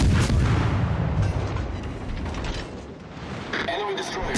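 Naval guns firing in a war game: heavy booming blasts that roll and rumble, loud and close, with voices speaking over the gunfire.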